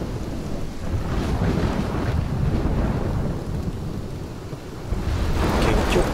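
A storm in Life Is Strange roars with dense rain and gusting wind, and deep thunder rumbles swell and fade across the scene, loud and continuous with no voices.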